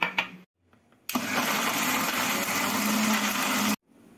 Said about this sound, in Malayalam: കുറച്ച് ഉപ്പും കൂടി ഒക്കെ ഇട്ട് നന്നായിട്ട് മിക്സിയിലിട്ട് നമ്മളൊന്ന് അരച്ചെടുക്കും.